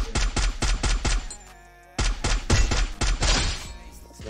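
Rapid bursts of video game gunfire, a string of sharp shots in quick succession, a short pause, then another volley of shots.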